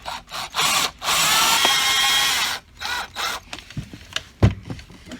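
Power drill driving screws into an electrical outlet box, a loud close whir in short bursts then a sustained run, followed by lighter clicks and knocks from handling the box.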